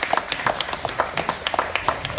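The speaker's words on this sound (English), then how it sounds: "let's get a round of applause for both Sabra and Taylor for some great presentations" A small audience at a Smart City talk event in Arches Brewing, Hapeville, Georgia, claps for presenters, a sparse patter of individual claps rather than a dense roar, fairly close and without talk.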